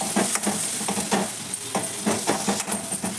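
Potato pieces fry in oil in a pot, a continuous close sizzle punctuated by rhythmic scraping and knocking of a spoon as they are stirred, with no one speaking.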